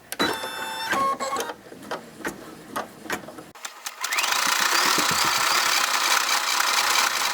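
An embroidery machine stitches small hearts onto a tulip design for an in-the-hoop pocket purse. It runs with a steady mechanical whir and rhythmic needle ticks, then shifts to a denser, louder continuous hum. Nobody talks.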